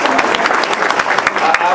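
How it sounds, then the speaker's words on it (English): Energetic applause from a crowd at a Washington County Republican rally for Senator Chris Shank, close and loud, with sharp individual claps and some cheering voices mixed in. "How about another round of applause for Senator Chris Shank?"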